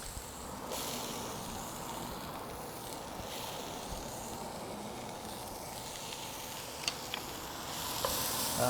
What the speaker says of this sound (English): we're getting some nice browning and caramelization happening here. Starting to render out some of that fat.